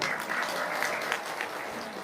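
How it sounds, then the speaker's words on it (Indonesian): Brief applause breaks out from a small group, a dense, fairly even clatter of hands that holds steady for a couple of seconds. "tepuk tangan dong"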